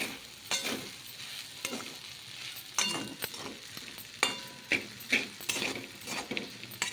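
Sabudana khichdi with crushed peanuts is stirred in a pan, giving repeated close scraping and clattering strokes of a spoon against metal over a light sizzle, with no speech.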